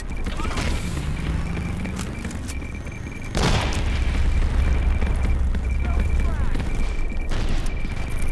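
A frag grenade goes off in the World War I shooter Verdun with a single close, heavy boom midway through, over constant battlefield noise and scattered voice callouts.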